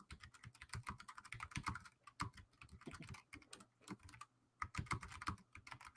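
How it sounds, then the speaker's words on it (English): Rapid, steady clacking of a computer keyboard being typed on, close and continuous with brief pauses, no voices over it. "I'm typing."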